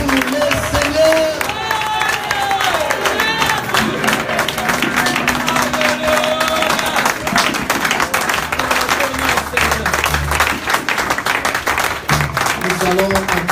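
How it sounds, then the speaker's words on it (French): Church congregation applauding and cheering for the Lord, a dense, steady wash of clapping mixed with shouts and crowd voices, loud and sustained throughout. "Acclamons pour le Seigneur."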